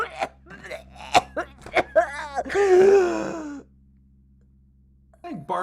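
A voice imitates barfing and coughing in a live improv comedy scene, with a string of sharp coughing bursts building into a long, strained retching groan, followed by quiet and a brief vocal sound.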